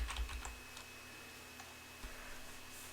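Quiet keystrokes on a computer keyboard while typing a command-line git session, a few soft irregular clicks in the first half-second and sparse taps afterward over a low steady hum.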